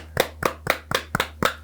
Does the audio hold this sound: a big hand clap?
yes